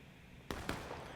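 Two sharp, distant cracks of gunfire sound a fraction of a second apart over a steady background wash in a 290-player Civil War Maryland Campaign battle game with Union infantry.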